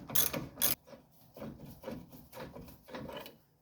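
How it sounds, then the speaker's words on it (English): Ratchet on a strut bolt of a 2002-2005 Ford Explorer during control arm replacement. Several bursts of close, bright clicking come in quick rhythmic pulls with brief gaps, each one loud and alone. "next we're just going to take this strut bolt out"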